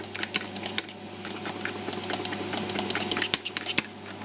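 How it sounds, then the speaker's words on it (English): Spoon clinking and scraping in a bowl while mixing tomato puree into a pizza topping, irregular sharp taps and scrapes close by over a faint steady hum. "I'm going to pop it all in there and mix it all together."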